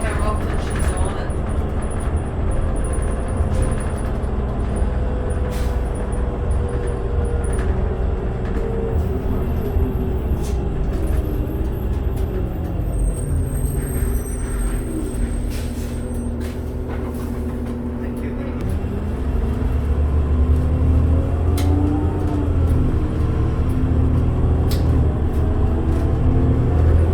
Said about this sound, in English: This bus does not sound tired at all. She's going pretty strong,